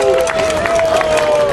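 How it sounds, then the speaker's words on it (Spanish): A wrestling show crowd applauds and cheers for the referee, a loud, continuous wash of clapping and crowd noise with a sustained tone running through it. "aplauso para el referee"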